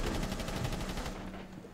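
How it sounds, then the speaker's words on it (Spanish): Gunfire hits a wall in the tactical shooter game Rainbow Six Siege, sounding as a rapid burst of automatic shots with a steady pulsing rhythm that fades toward the end, fairly quiet with no talk over it. "Pablo, pega y disparo a esa pared."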